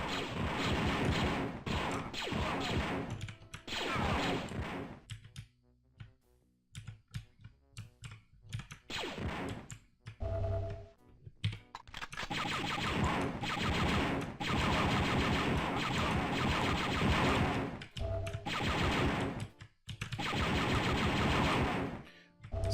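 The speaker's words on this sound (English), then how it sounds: "Shooting through a doorway at slightly different colored moving pixels." Blaster fire crackles in the classic DOS shooter Dark Forces as dense bursts of rapid shots, broken by short quiet gaps and a few separate hits.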